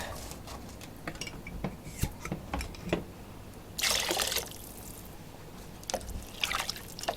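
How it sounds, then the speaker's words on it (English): Turkey stock is poured into a pot with soft trickling and splashing, plus a brief louder rush partway through, all faint amid small clinks and kitchen handling noise. "Going in with another turkey stock."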